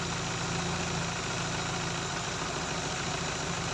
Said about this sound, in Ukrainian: О, затроїв двигун.